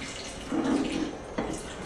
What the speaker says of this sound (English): I'm going to add just a little bit of water and start blending this up